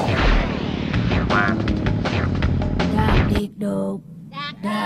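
Weapon fire in Crash Team Racing, a kart racing video game on the Sewer Speedway track, comes as a dense run of loud booming shots with game effects, followed by a few separate bursts after a short pause.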